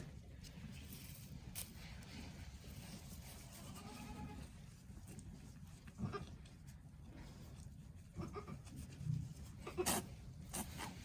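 A newborn Nigerian dwarf goat kid bleats in short, thin cries amid a busy, rustling background, with a few louder bleats near the end.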